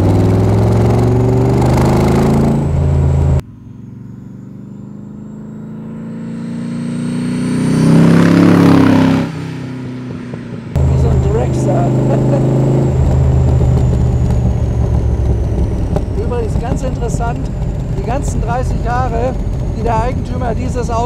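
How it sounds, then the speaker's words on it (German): A 1964 AC Cobra 427 SC MK III with a 7-litre American V8 rumbles and revs, swelling to a loud roar midway before dropping back to a steady idle, with people talking over parts of it. "Und dieser irre Sound, die so ein Wagen hat hier, diese amerikanischen V8-Maschinen,"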